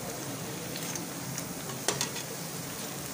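Pumpkin fritters (beguni) deep-frying in oil bubble with a steady, close crackling sizzle, broken once by a brief utensil clatter.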